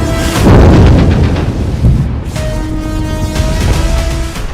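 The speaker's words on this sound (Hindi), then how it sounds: "गाजा पर लगातार बम बरस रहे हैं" Bombs explode over Gaza in a loud, deep, rumbling barrage of blasts and booms, the heavy low roar swelling and rolling continuously with faint tonal lines running underneath.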